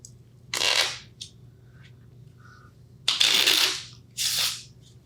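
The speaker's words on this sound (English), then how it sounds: "You shuffle the deck." Cards being riffle-shuffled in three quick bursts with brief pauses between, crisp and close in a quiet room.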